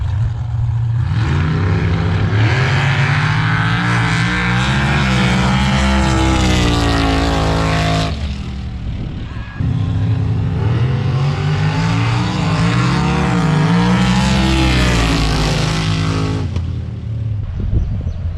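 Street cars roar down a drag strip in two loud runs, each engine revving hard through rising gear pulls for several seconds before fading, with a brief lull between the passes.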